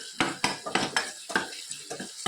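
Turmeric, red chilli powder, asafoetida, coriander-cumin powder and garam masala being stirred together in a metal pan, a spoon scraping and clinking in a steady, close rhythm of about nine strokes.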